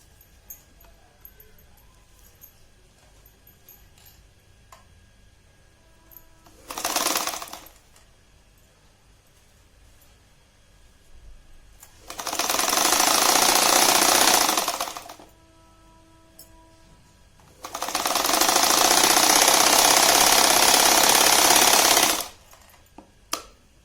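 A sewing machine stitches the lining onto a handmade five-pocket purse in three bursts: a short one, then two longer, steady runs of close, loud whirring separated by quiet pauses.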